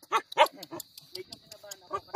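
Dogs at a fishpond farm in the Philippines give short, close barks and yips, a few sharp bursts in a row, mixed with excited voices talking over them.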